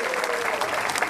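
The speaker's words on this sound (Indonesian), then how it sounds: "tepuk tangan dong buat Dr. Boyke" A studio audience at a stand-up comedy roast claps loudly and continuously for the guest of honor, Dr. Boyke, in a brief burst.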